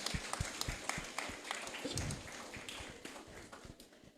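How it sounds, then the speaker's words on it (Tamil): An audience applauds at a church Christmas choir festival, a scattered, uneven patter of hand claps with sharp individual smacks standing out over a steady wash, moderately loud with no clear speech. "ஒரு நல்ல கரகோஷம் கொடுக்கலாமா?"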